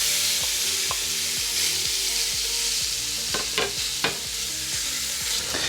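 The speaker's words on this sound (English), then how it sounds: "we're gonna put this over medium-high heat and go ahead and fry our bacon." Bacon fries over medium-high heat in a stock pot without added fat, a loud steady sizzle with a rhythmic scrape of stirring and a few sharp clanks of utensil against metal.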